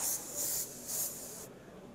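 An airbrush sprays paint in short hissing bursts, three quick sprays close by, then stopping to quiet room noise.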